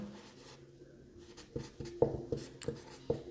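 Pen writing on paper while working a class 10 math solution, soft scratching strokes with a few sharper taps, close and quiet with no talk.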